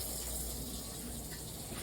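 Water runs steadily from a tap into a cast iron skillet, a continuous broadband gushing and splashing that stays even and fairly close throughout the short stretch, with no voices.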